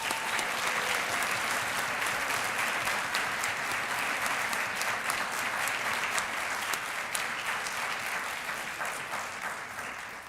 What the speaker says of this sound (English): Let's give our award recipients one last round of applause